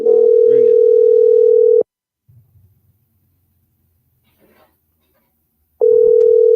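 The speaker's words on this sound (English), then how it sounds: "So, folks, we calling the Prime Minister. It ringing." A steady electronic telephone ringing tone on a radio call-in broadcast sounds loudly, stops for a long quiet gap with faint rumble, then starts again.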